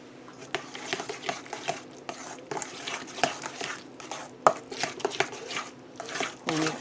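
Mashed parsnips are stirred in a pot with repeated clacking and scraping of a utensil against the pot in an uneven rhythm, close and moderately loud throughout.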